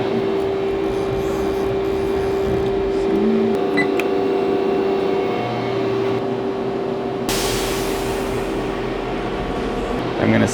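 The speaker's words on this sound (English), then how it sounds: "I'm gonna speed up the spindle and retract it." A boring machine spindle runs on a 4G63 engine block, giving a steady tonal machine whine with a hum beneath it. A louder hissing broadband rush joins partway through.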